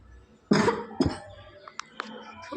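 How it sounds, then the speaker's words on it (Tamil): A person with a sore throat coughs close by, two loud harsh coughs followed by a few smaller throat sounds, while Naruto Ultimate Ninja Storm 3 game audio plays quietly underneath. "இருமல் வருதே"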